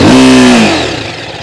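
A 2024 TVS Apache RTR 310 motorcycle engine is revved hard on the throttle once, a loud, close, rising growl that falls away as the throttle closes, fading to a low idle.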